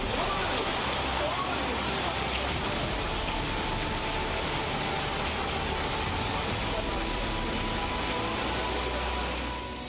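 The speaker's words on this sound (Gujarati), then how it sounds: "અરવલ્લીમાં આફતના વરસાદના જુઓ આ દ્રશ્યો।" Heavy monsoon rain falls during flooding in Aravalli, Gujarat, a dense unbroken rush of water at steady volume that fades slightly at the very end.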